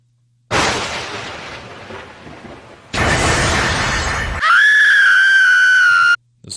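A voice actor's loud recorded scream in an abridged anime parody, a harsh raspy burst that breaks and restarts, then rises into a sustained shrill, piercing cry before cutting off abruptly.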